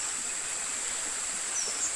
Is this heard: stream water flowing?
yes